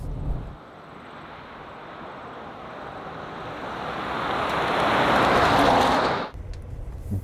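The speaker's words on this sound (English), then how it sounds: "Big V8. It's the only V8 in this group, the Silverado, so it's going to make a big old racket." A Chevrolet Silverado pickup with a V8 engine, driving while towing a trailer: a broad, rushing drone that builds steadily louder over several seconds, then cuts off abruptly near the end.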